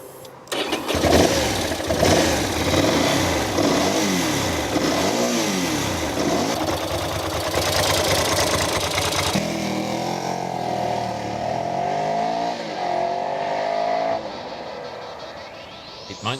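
A Ducati motorcycle with a fuel-injected 90-degree V-twin engine, loud and near, starts up and revs, then pulls away under riding with rising and falling engine pitch throughout, no talking.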